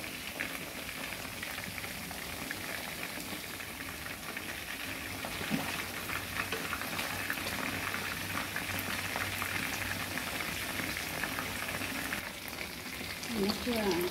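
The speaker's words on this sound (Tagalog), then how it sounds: "Fried chicken wing." Chicken wings frying in hot oil, with garlic cooked until crunchy, give a continuous bubbling sizzle at moderate, even volume throughout, with a few faint clinks and no clear talking.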